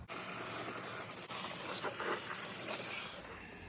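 Aerosol engine degreaser sprayed onto a truck engine, a steady broadband hiss that jumps louder partway through and runs continuously for several seconds before easing off at the end.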